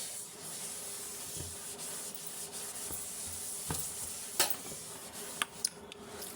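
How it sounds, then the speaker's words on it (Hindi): Scrubbing and washing a kitchen sink during home cleaning: a steady, close rasping rub runs throughout with a few sharper knocks and clinks near the end, no talk. "बर्तन मैंने धो लिए, अभी मैं सिंक धो रही हूँ।"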